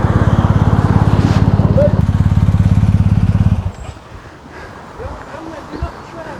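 Yamaha Tenere 700 motorbike engine running loud and steady with a throbbing low drone, joined by wind rush, then cutting out partway through and leaving quieter outdoor ambience with faint scattered sounds.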